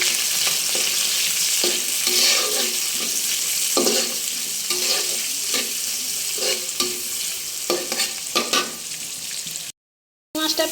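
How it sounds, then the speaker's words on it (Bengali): Prawns frying in hot oil with onion, green chilli and garlic, a loud steady sizzle with repeated rhythmic spatula scrapes and stirs, close up, cut by a brief silent gap near the end. "মাছটা পেঁয়াজ মরিচটা দিয়ে একটু হালকা ভাজা ভাজা হয়েছে"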